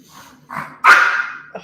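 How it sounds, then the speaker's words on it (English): Pet dog barking indoors during a reading: a few short, close barks and yips, the loudest a sharp bark in the middle, followed by a brief small yip. "Don't bark at me."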